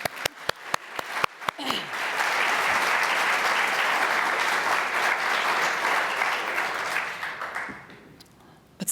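A conference audience applauds researchers and doctors at a keynote, starting with a few scattered claps and swelling into loud, sustained clapping that fades away near the end.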